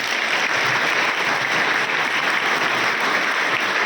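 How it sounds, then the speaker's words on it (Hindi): A gathered crowd gives loud, continuous applause to welcome an additional district judge, a steady, even roar of many clapping hands with no pause. "जोरदार तालियों से स्वागत करें।"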